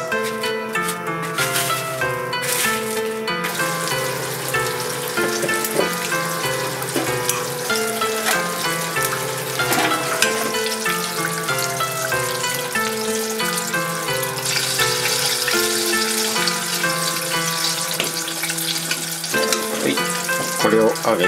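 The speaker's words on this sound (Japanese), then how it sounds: "これを揚げていきます。" Breaded mackerel miso cutlets deep-fry in hot oil with a continuous bubbling crackle heard close up, while tonal background music plays over it.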